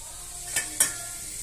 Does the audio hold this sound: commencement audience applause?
no